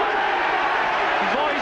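A rugby crowd at the 1989 Neath v All Blacks match roars in a steady, dense wash of noise while a commentator talks over it.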